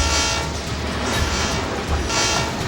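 Freight train approaching on a single-track railway line, a loud rumbling roll of wheels with repeated horn blasts sounding over it.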